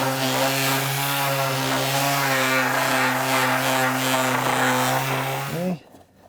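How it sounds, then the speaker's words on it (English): Power sander running steadily on wooden door trim for a cased opening, a loud continuous motor whine with strong harmonics that holds for about five and a half seconds and then winds down abruptly. "I'm just gonna sand off the saw curves and anything else that I see."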